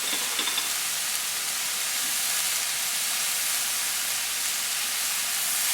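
Potatoes and onions frying in a pan with salt and garlic give a steady, loud, even hiss and sizzle that runs unbroken from start to end with no talk.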